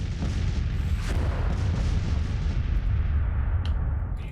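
Artillery bombardment in the Civil War strategy game Grand Tactician, a dense continuous rumble of overlapping booms and cannon fire with a few sharper reports near the end, loud and heavy, no voices.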